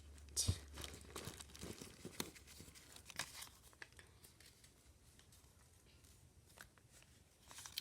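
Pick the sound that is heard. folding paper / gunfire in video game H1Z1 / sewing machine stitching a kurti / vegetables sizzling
folding paper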